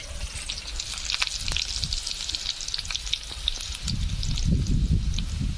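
Chopped onions fry in a pan, probably cooking over a wood fire, giving a steady close sizzle and crackle with occasional stirring scrapes; the frying swells louder near the end and no one speaks.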